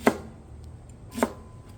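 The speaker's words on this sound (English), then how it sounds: "We do a rough chop on all of these." A knife rough-chops vegetables on a cutting board for duck udon soup, two sharp, close thunks about a second apart, clean and distinct in a quiet room.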